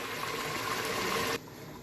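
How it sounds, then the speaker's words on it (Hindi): Water pours in a steady gush into a pot of mutton paya, goat trotters being cooked, close and continuous before stopping abruptly. "ये देखें मैंने इसमें थोड़ा सा पानी डाला"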